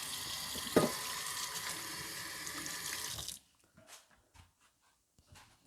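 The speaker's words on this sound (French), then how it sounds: "On lave les mains." Hands washed under a running kitchen tap, a close steady splashing water stream for about three seconds that then cuts off, leaving faint drips and light handling sounds.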